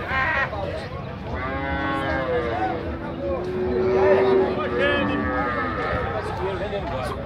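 Cattle moo repeatedly, long drawn-out calls rising and falling, heard over a busy crowd with people talking nearby at a cattle fair in Tabira, Pernambuco, Brazil.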